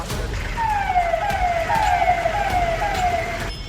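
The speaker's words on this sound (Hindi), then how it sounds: "पीछे पीछे सायरन बजाती हुई पुलिस की गाड़ियां और वज्र वाहन सब लाइन से चल रहे हैं" Police vehicles and riot-control vans roll in a line during a police flag march in Sonbhadra, their sirens wailing in repeated descending sweeps, loud and close over a steady road rumble.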